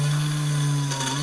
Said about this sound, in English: This drill is blunt.